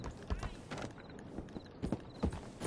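Horse hooves clip-clopping in the Red Dead Redemption 2 video game, a quick uneven run of close hoof strikes with faint creaks and a voice talking over it.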